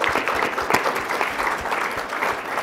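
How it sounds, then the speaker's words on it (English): Applause from the audience at a school district safety forum, a steady, dense wash of many hands clapping that holds even across the whole stretch, fairly close and loud. "I want to give her a round of applause for being here."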